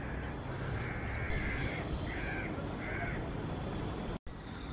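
Crows in coastal mangroves near an estuary give several harsh, repeated caws in short bursts over a steady background hiss, fairly loud and close with no speech.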